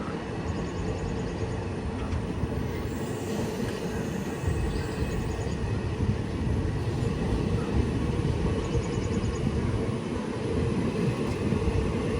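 Steady rumble inside a Mangaluru–Thiruvananthapuram–Ernakulam intercity express train in motion, a constant broadband roar with faint rhythmic track clatter, close and unbroken, no speech.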